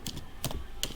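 Typing on a computer keyboard, three quick clusters of close, crisp key taps over quiet background hiss.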